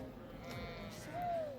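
A flock of about sixty to seventy sheep in a Nepal hill village, with a clear nearby bleat rising over steady outdoor background noise and faint talk.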